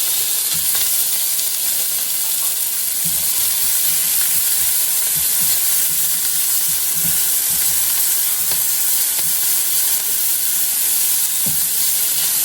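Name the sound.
sautéing peppers and onion in a pan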